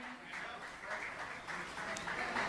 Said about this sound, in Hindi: आप तालियों से अनुमोदन कीजिएगा इस सम्मान की।